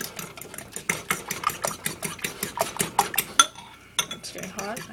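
Eggs being scrambled in a pan with a fork, a quick rhythmic series of close metallic scrapes and taps repeating several times per second, with a brief pause near the end.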